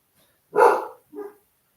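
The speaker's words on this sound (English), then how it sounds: "Sorry for the dogs." Dogs barking indoors in a home, one loud bark followed by a shorter, softer second bark, with no talking.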